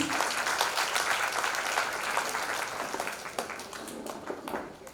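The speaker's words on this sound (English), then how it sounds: "A big round of applause to our students." A school audience claps for students at an awards event, dense, steady applause at a moderate level that slowly tapers toward the end, with no voices.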